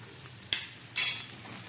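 Potato, onion and tomato fry in a pan as grated ginger goes in, giving a steady soft sizzle broken by two short, sharper bursts of stirring and scraping.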